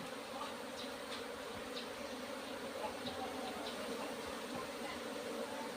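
Asian honey bees swarm around a cavity nest tucked beside a rubber tyre against a wall, their dense, even buzzing droning continuously and close by with no voices.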